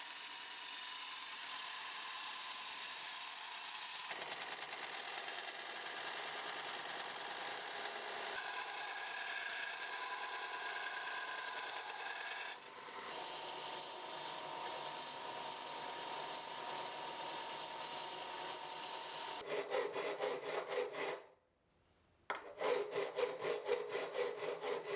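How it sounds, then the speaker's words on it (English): A 4x36 belt sander grinds knife profiles with a continuous abrasive whir that shifts in pitch as pressure changes. It cuts out briefly near the end, then resumes. "it's time to head to the 4x36 belt sander to dial in the profiles"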